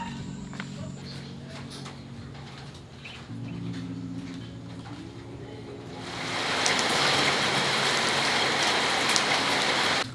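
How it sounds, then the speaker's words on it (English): Rain from a small night thunderstorm on an El Salvador beach begins partway through, a steady broadband hiss of drops that swells loudly after a quieter stretch of low background rumble. "It just started raining."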